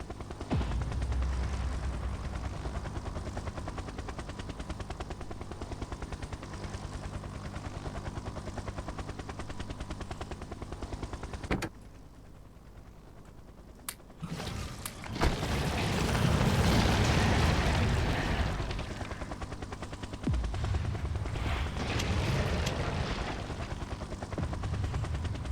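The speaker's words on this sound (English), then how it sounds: "Artillery and nukes." In the video game Factorio, artillery shells and nukes go off as a continuous loud roar with heavy rumbling, then a short quieter lull and a renewed powerful blast surge that tapers off. No one speaks.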